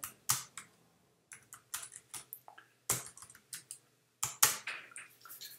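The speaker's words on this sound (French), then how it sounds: "Pour cela, on tape PHP Artisan" Typing a command on a computer keyboard, crisp close key clicks in short irregular bursts separated by brief pauses, with no talking.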